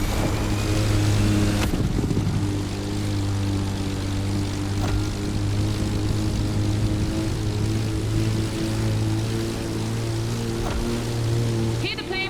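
A propeller plane in the racing video game The Crew Motorfest drones steadily overhead, a loud continuous engine buzz with a low hum, layered with rushing wind and race-car noise.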